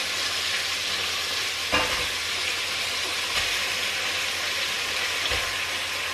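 Pork trotters frying in a cooking pot, giving a steady broadband sizzle with a few soft clunks of the meat and pan, close and continuous with no talk.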